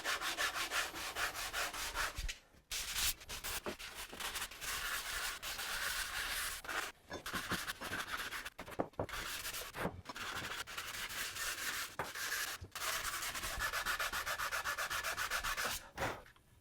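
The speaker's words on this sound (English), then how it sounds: "You don't want to be sanding like this and then causing this line to kind of bow into the sword." Sandpaper rubbing along the edge of a handmade wooden sword, a continuous raspy back-and-forth scratching in long strokes, with a few short pauses between passes and no talking.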